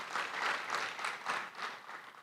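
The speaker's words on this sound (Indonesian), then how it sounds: "Beri tepuk tangan yang mulia buat nama Tuhan." A church congregation at a Sunday service applauds together in a sustained, fairly quiet wash of clapping that swells and ebbs in gentle waves, with no voices over it.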